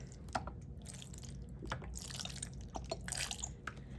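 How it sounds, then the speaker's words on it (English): Salad dressing poured into a bowl of pasta salad, soft wet glugs and drips with a few sharper splats, close and faint, no talking. "Just add that dressing in there."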